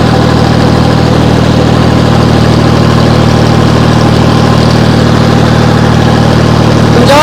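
John Deere tractor engine labouring under load while pulling a 10-foot rotavator, a loud, continuous low diesel drone heard close up throughout, with no voices.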